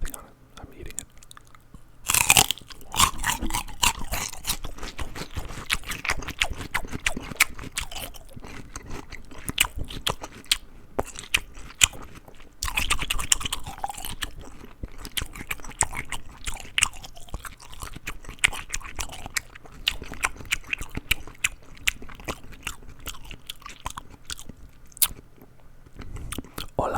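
Close to the mic, someone bites and chews crunchy plain celery, giving repeated sharp snaps and wet crunching in an irregular rhythm that keeps going for nearly half a minute.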